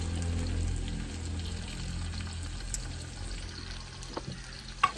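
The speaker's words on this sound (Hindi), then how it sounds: "प्याज मैंने ऐड कर दिया। अभी इसको अच्छे तरीके से ब्राउन करते हैं।" Chopped onions frying in oil in a home kitchen, cooked down until brown: a steady, close sizzle with a faint hiss running throughout, and a few small clinks toward the end.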